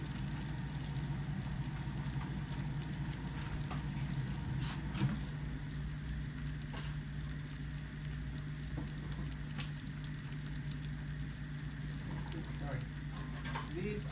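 French bread toasting in a hot pan alongside spicy smoked sausage, a steady low sizzle and crackle running continuously with a faint background hum, no voices.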